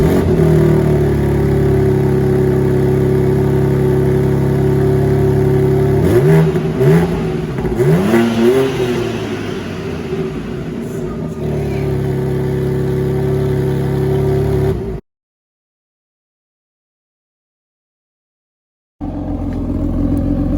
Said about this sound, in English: let's do an engine startup and let's see what the M3 competition sounds like